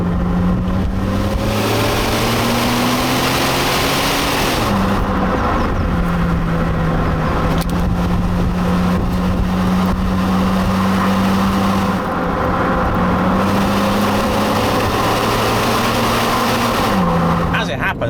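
A Rover 45 V6 drives along a winding British B road, its engine note droning loud and close, rising and dipping with gear changes, while someone talks over it throughout.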